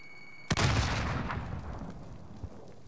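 A frag grenade explodes in a battle-royale shooter game: one sudden, loud, close blast followed by a long, fading rumble, with a small pop near the end.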